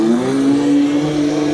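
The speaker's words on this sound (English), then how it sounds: "I can hear the fake sound along with the real sound." A MilePop 1 electric motorcycle hums close by with a steady synthetic engine-like drone layered over the real motor whine, even and continuous throughout.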